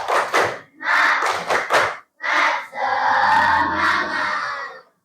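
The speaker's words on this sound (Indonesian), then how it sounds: "tepuk semangat" A group of children performs a spirit clap chant, their voices shouting rhythmic bursts in unison with claps mixed in, loud and close, ending in a longer sustained group cheer.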